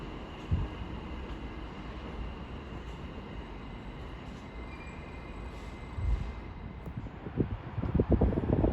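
A train rolls into Watford Junction on the West Coast Main Line after its run from London Euston: a steady low rumble of wheels and rail noise, growing louder and more clattery near the end, with no voices.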